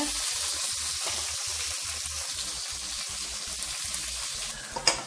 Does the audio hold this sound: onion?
yes